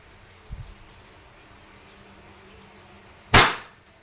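WE Hi-Capa T-Rex airsoft gas pistol, 2011 model, firing a single sharp crack that stands alone against a quiet background, preceded by a small click.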